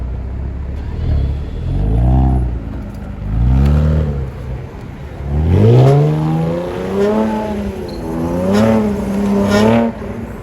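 A supercar engine on a Paris street starts and revs repeatedly, with loud, close rising and falling bursts of throttle and brief pauses between each rev.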